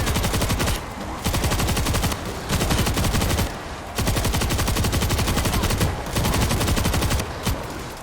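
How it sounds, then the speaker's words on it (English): An LMG firing explosive rounds in World War Z pounds out long, rapid bursts of heavy automatic fire, loud and close, broken by brief pauses between volleys. "My heavy weapon's like a LMG that fires explosive rounds."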